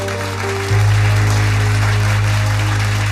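Audience applause for a Punjabi poet at a literary gathering, a steady wash of clapping that swells suddenly and stays loud over a low electrical hum.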